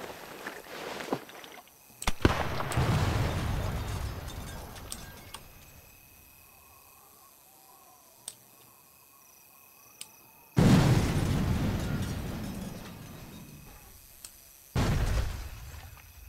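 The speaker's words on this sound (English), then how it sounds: "I can't hear you with everything exploding." Explosions in the shooter Sniper Elite 4 during a deathmatch, several loud booming blasts with long rumbling decays separated by quieter gaps, close and heavy.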